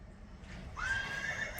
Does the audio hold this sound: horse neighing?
yes